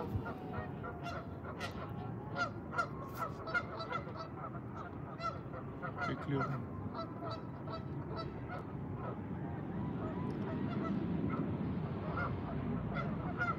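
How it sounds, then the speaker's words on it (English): A flock of geese honks continuously as they return to a pond, many overlapping calls near and far over a steady rushing background, with a brief spoken word partway through. "Those geese are super loud now."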